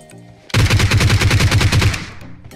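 A rapid burst of automatic gunfire from a video game shooter rattles out loud and close, about a dozen evenly spaced shots in under two seconds, then cuts off abruptly.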